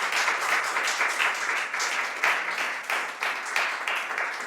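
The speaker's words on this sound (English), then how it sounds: "Another round of applause for Mohammed." An audience applauds after a piano performance at a world meeting on human fraternity, a steady wash of many hands clapping at moderate loudness, with no voices over it.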